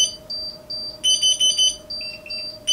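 An AV8 carbon monoxide detector tested for an airplane cockpit sounds a high, thin electronic alarm in short repeated beeps and quick bursts over a steady faint hum.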